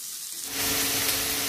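Chopped onion, curry leaves and garlic hit hot oil and burst into a loud, steady sizzle that swells after a brief quieter moment and holds close and continuous.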